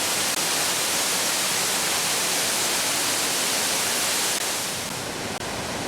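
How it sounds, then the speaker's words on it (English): The 400-foot Crabtree Falls in North Carolina makes a steady, dense wash of falling water that stays loud and even throughout, easing slightly near the end. "We visited the 400-foot Crabtree Falls."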